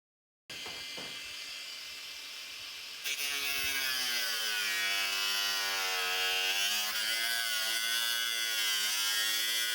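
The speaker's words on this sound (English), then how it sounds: "let's get the grinder out" An angle grinder spins up and then cuts into the plastic guard of a brand new Stihl FSA 65 battery grass trimmer, a loud continuous whine that gets harsher and rises in pitch as the disc bites in and holds steady.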